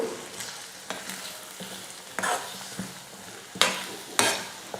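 A spatula stirs onion and egg stir-fry (egg poriyal) in a hot pan, scraping in irregular strokes over a steady sizzle, with a few sharper clacks against the metal.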